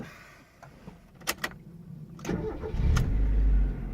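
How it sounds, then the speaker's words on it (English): A 1990 Mazda Miata engine cranks briefly with a few sharp clicks, then catches and settles into a steady, loud idle close by, with no talking. "Car starts right up."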